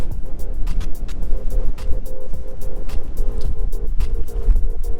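Suzuki Jimny driving, its engine humming steadily from inside the cabin, with constant road rumble and rattling over uneven ground, loud and close throughout.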